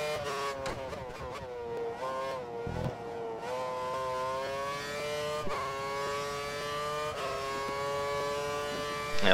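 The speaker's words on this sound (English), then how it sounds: "And as the cars start to come out of the pits now." Formula One race cars in F1 2013 pull out of the pits at Bahrain, their high engine whines rising and shifting as several cars pass, with a couple of sharp gear changes.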